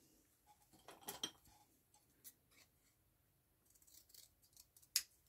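Scissors snipping through stamped card paper for a handmade greeting card, a scattered series of small crisp cuts and clicks with one sharper snip near the end, quiet and close, no talking.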